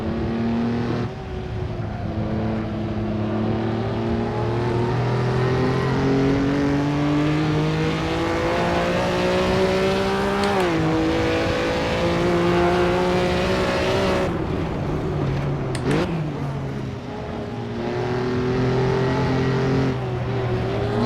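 A vintage 1957-era race car engine at Aintree in the Assetto Corsa racing game roars loudly and continuously, its pitch climbing through gears, dropping on shifts and braking, then rising again.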